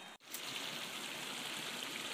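A small mountain stream in Tibet flows steadily, a soft, even rush of water heard faintly after a brief dropout at the very start.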